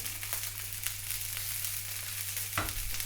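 Sausages fry in a pan with melted butter, giving a steady, continuous sizzle and crackle that stays close and even throughout, with no voices.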